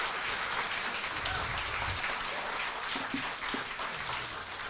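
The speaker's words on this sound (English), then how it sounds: "May we have a round of applause again for Justice Carpio." Steady applause from a lecture audience honoring Justice Carpio, a dense continuous wash of clapping held at an even level throughout with no voices over it.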